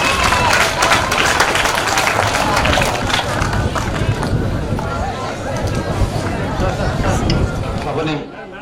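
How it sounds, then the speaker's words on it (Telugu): Loud, dense applause from a crowd at a yoga day gathering, sustained clapping mixed with chatter before fading out near the end. "గట్టిగా చప్పట్లతో డాక్టర్ గారి కృతజ్ఞతలు తెలియజేసుకున్నాం."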